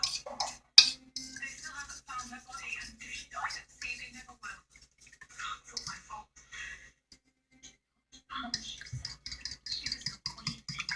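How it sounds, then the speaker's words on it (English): A utensil stirs a honey butter roll mixture in a bowl, making clicking and scraping strokes at an uneven pace, with a short pause before the stirring starts again. "Now that I have everything mixed, I'm going to just go ahead and give this a stir"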